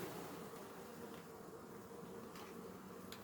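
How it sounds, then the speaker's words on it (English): Honeybees hum in a dense, continuous buzz during a hive inspection, close to the microphone and steady throughout, with a few faint knocks of handling. "There'll be a little bit more bees here."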